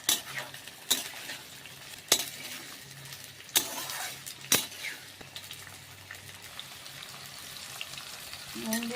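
Capsicum, potato, carrot and tomato sizzle in a frying pan while a utensil stirs them, with sharp scraping clinks against the pan every second or so over a steady hiss.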